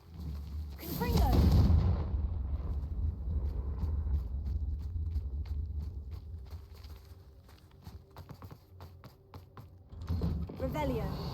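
A Confringo fire spell cast in the video game Hogwarts Legacy bursts out as a loud, booming blast near the start. Fainter clicks and thuds follow, and a second rumbling burst comes near the end.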